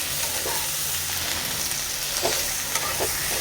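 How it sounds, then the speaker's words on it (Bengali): Flat beans frying in oil in a pan, giving a continuous, dense sizzle close by, with a few soft stirring knocks and no talking. "এখানে শিমগুলো লাল লাল করে আগে ভাজতে হবে"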